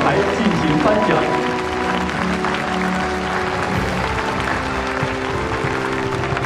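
An audience at an award ceremony applauds, a loud, continuous wash of clapping from many hands that holds steady throughout, with some voices mixed in.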